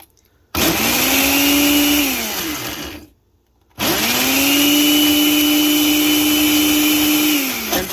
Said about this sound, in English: So I am going to put these in the blender, and I'm going to blend them so that I can turn them into a powder